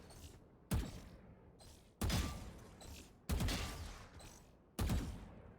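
Four loud, evenly spaced gunshots ring out while shooting practice bots in the tactical shooter Valorant, each a sharp crack followed by a short echoing tail.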